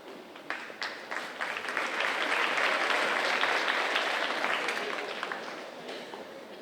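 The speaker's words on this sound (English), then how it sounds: "can we just give one more round of applause to Akshay, Kaylin, and Charlie?" An audience claps at a school graduation ceremony, a broad wash of applause that builds, peaks in the middle and slowly tapers, with scattered sharper claps near the start.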